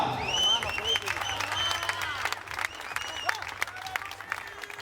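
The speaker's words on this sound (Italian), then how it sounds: "facciamo un applauso per Teresa Mustica" Steady applause from an audience at a marathon awards ceremony, many hands clapping at once, with faint voices mixed in; the clapping stays fairly even throughout.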